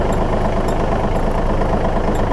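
A tractor engine idles steadily with a dense, continuous low rumble, loud and close throughout.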